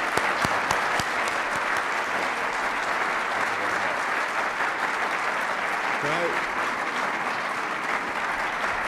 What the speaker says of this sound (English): let's shake it up with a round of applause for Governor Bruce Rauner.